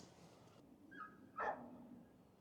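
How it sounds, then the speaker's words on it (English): Dogs bark near the North Pier in Blackpool: a short burst of barks and yips, somewhat distant and fairly faint, heard over quiet outdoor background with no talking. "it's kicking off with some dogs up here"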